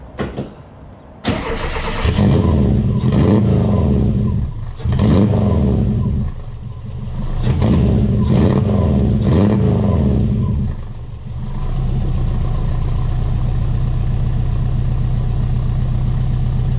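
A Subaru coupe's engine with an aftermarket exhaust cranks and fires up, then revs in several rising bursts with a deep rumble before settling into a steady, loud idle close by.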